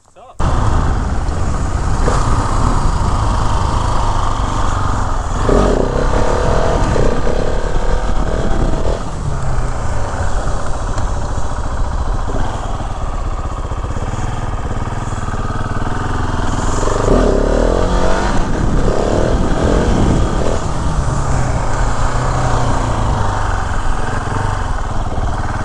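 A 2020 KTM 690 SMC R single-cylinder supermoto engine runs loud and close, its steady drone swelling into several revs, with a person talking over it.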